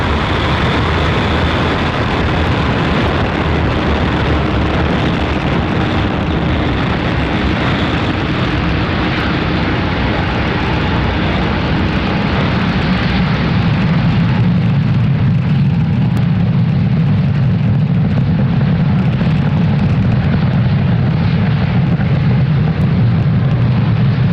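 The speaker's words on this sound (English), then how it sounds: "Ignition and liftoff with Falcon 9" A SpaceX Falcon 9 rocket ignites and lifts off from SLC-40 at Cape Canaveral, a continuous, very loud broadband roar that holds steady and deepens into a rumbling thunder as it climbs.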